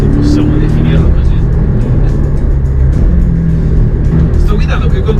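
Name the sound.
Porsche Boxster S 718 engine while driving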